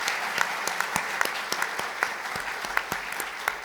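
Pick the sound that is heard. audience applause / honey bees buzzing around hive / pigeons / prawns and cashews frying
audience applause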